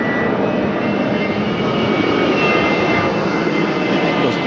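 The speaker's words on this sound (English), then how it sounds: "Those engines sound mighty weird." Jet airliner engines at LAX on a hot August day, an unusual-sounding engine producing a loud, steady broadband roar with a faint whine, continuous and close, with no voices.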